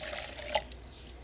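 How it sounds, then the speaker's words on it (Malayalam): Water trickles and drips into gooseberry lime juice with sugar in a blender jar, a short, light pour with a few bright splashes standing alone without talk. "വീണ്ടും നിങ്ങൾക്ക് ആവശ്യത്തിനനുസരിച്ചുള്ള വെള്ളം ചേർക്കാം."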